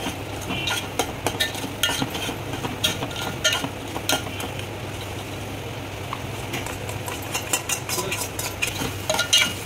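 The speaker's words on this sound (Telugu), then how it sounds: "దీంట్లోనే ఈ కాజు బాదం వేయించుకునేది నెయ్యి కూడా వేసేసుకోవాలి. వేసేసుకొని కలుపుకోవాలి బాగా." Ghee stirred into a pan with fried cashews and almonds while making atukula payasam, giving a steady scraping and clinking of a spoon against the pot over a soft sizzle, close and continuous without speech.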